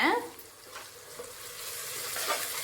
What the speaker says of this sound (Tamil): பச்சை வாசனை போகிற வரைக்கும் நல்லா வதக்கி விட்டுட்டு